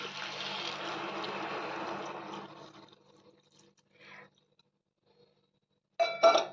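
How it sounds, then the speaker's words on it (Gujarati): Water is poured into a pot of mixed sambhar spices, a steady splashing pour for about two and a half seconds, then brief faint clinks and a short final burst of pouring. "હવે આપણે એની અંદર પાણી ઉમેરીશું"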